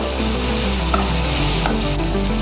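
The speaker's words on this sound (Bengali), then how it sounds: "দিয়ে এবার এটাকে একটু ভাজা ভাজা করবো" Two raw tomatoes fry in a pan as the base of a rohu fish curry with cauliflower, giving a steady, close sizzle that runs unbroken through the whole moment with a faint tonal hum beneath.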